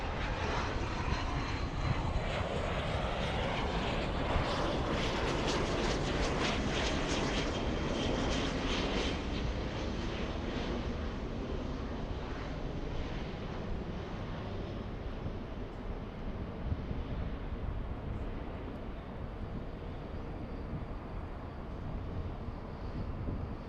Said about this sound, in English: we have an exec jet coming in